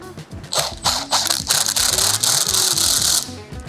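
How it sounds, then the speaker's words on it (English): An Allen key ratcheting a bar end mirror tight into a motorcycle handlebar, a close series of rapid metallic clicks and rattles, with pauses between turns. "As we tighten that down, it expands inside and holds itself on the bar."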